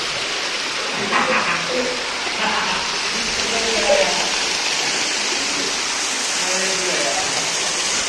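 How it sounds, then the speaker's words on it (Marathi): Heavy rain pours down at Antur hill fort near Chhatrapati Sambhajinagar, a dense, loud, unbroken roar of water close by that continues at a steady level throughout. "जोराचा पाऊस सुरू झाला आहे मित्रांनो वरच वरतून पाणी येत आहे"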